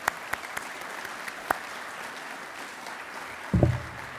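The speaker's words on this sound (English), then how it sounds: "please let me give applause to those groups" An audience applauds at an Internet2 conference session, a soft, steady wash of distant clapping with a few sharper claps and a low thump near the end.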